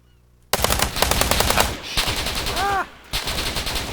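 Rapid automatic gunfire in the ArmA 3 military video game: close, loud bursts of machine-gun fire in quick rhythmic succession, with brief pauses between volleys.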